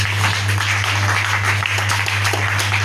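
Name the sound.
congregation applauding and cheering for the Lord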